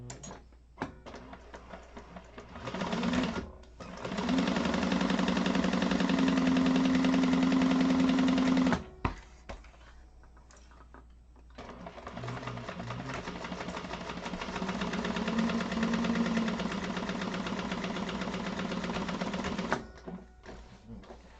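A sewing machine chain stitches a tote bag in two long, steady runs of mechanical whirring, each lasting several seconds with a short pause between them, close and fairly loud.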